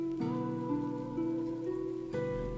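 A rain sound effect opens a German rap song, with soft, even patter running beneath sustained, shifting synth tones.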